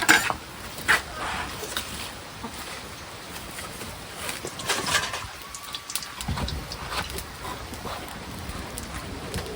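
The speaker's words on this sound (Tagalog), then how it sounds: "Maggisa na naman tayo ng corn beef dito pangdagdag sa ulam natin" Corned beef sautéing in a pan crackles and sizzles unevenly, with a spatula scraping and clinking against the metal now and then and a brief quieter gap near the middle.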